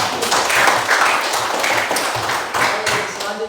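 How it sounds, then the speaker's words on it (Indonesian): A classroom audience claps for the first group after its presentation at a teacher-training session, a brief ragged burst of close hand claps lasting a few seconds. "Tepuk tangan dulu untuk kelompok 1"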